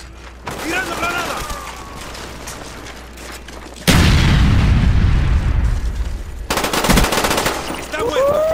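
A grenade blast amid gunfire in Call of Duty Black Ops: scattered shots and game voices, then a sudden loud, booming explosion with a long rumbling tail, followed by another burst of rapid fire.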